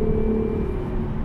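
An Acura NSX with a catback exhaust, heard from inside the cabin, gives a steady, deep engine drone with a low rumble, held at an even loudness throughout.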